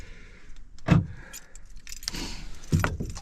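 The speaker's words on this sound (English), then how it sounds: "Go ahead and lock the truck up." Keys jangle while a truck is locked at a campsite in an Arizona national forest: brief metallic jingling bursts with a soft thump between them, close and fairly quiet outdoors.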